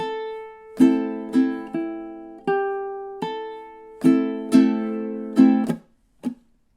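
A ukulele plays measures 5 and 6 of a minor blues as a single phrase, about a dozen bright plucked notes and strums in a steady rhythm ending with a short muted stroke, close and solo.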